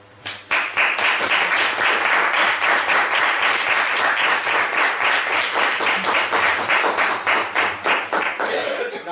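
Applause from an audience at a talk on military spending, many hands clapping in a steady, dense burst that starts abruptly and carries on for several seconds, with faint chuckles mixed in.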